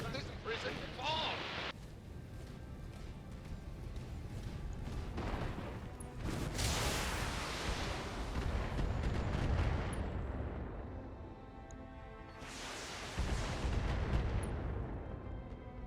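Missile and artillery fire from the mech combat game BattleTech, with heavy booming blasts and rumbling salvos that swell in several loud bursts, while a player's voice is heard over the action.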